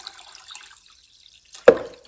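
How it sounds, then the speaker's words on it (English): Water runs from a tap into a pot for a beef soup, a short gushing splash rising near the end after a quiet start, loud and close with no talk. "I'm going to fill this maybe halfway for right now with just some water."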